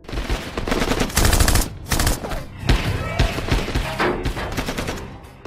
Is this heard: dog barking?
no